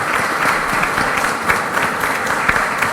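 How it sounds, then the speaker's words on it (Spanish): Audience applause at a formal legal plenary session, a dense steady round of clapping from a crowd throughout. "la despedimos con un nuevo aplauso por su intervención"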